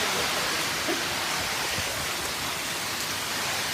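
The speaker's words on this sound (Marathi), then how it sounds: "खूप जोराचा पाऊस चालू झालेला आहे आमच्या इथं शेडवर" Heavy rain pours down in a dense, steady roar, drumming on a shed roof close by with no break.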